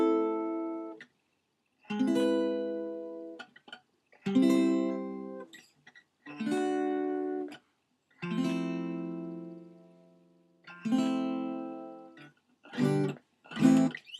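Opening chords of a song strummed on a Telecaster electric guitar: short groups of chords separated by pauses, ending in a few quicker strums, fairly quiet and close with no voice.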